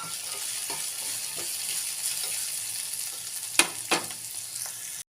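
Chickpeas go into a hot pan and are stirred, with a steady close sizzle of frying throughout and a couple of sharp scraping knocks near the end, no voices.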